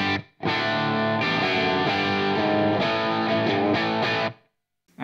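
A distorted electric guitar plays a few sustained, heavily overdriven chords through a Two Notes Torpedo Captor X cabinet simulator, a 4x12 greenback-style speaker with two microphones and slight reverb, loud and close, ending with a short pause.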